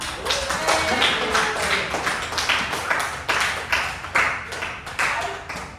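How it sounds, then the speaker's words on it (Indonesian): A small classroom group claps in a quick, uneven burst of applause, steady rhythmic hand claps carrying on for several seconds. "Ya, tepuk tangan untuk kita semua."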